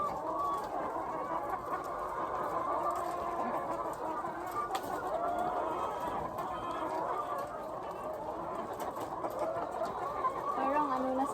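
Layer hens on a small province farm cluck and murmur steadily throughout, close and continuous, while a person talks over the flock.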